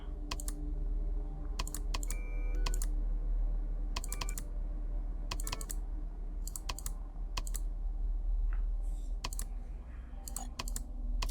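Computer keys and mouse buttons click in quick irregular bursts during Five Nights at Hololive. Sharp, close taps come in clusters with short pauses between them, over a faint steady hum, and no one talks.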